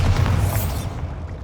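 Bombarda explosion spell from Hogwarts Legacy going off as a loud, close boom with deep low rumble, then a brief decaying tail over about a second and a half.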